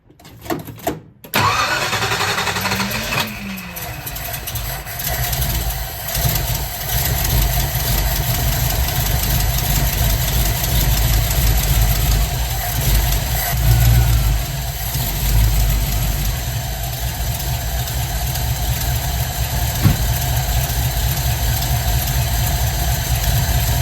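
Cold 1955 Ford Fairlane with a rebuilt Holley 4000 carburetor cranks briefly, catches and settles into a loud, steady, slightly uneven idle, close up with no talking.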